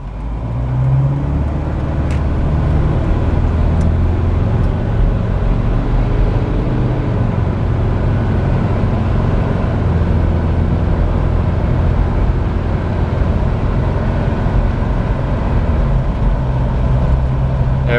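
Mitsubishi Delica van with a torque converter driving on the road, a steady loud low drone of engine and road noise heard from inside the cabin, unbroken and without talk.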